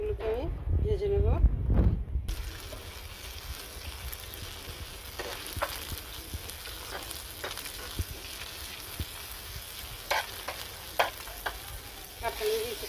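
Onion, garlic, dried and green chillies sizzle in hot oil in a home kitchen, producing a steady frying hiss with occasional stirring clicks and scrapes after a brief opening burst of talk.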